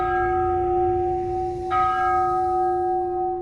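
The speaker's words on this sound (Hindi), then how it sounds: "लेकिन 12 बजे घंटी फिर से बजने लगी।" A deep church-style bell rings out steadily, its sustained tone shifting as a fresh strike lands partway through, loud and close with no voices, used as an eerie sound effect in a horror story.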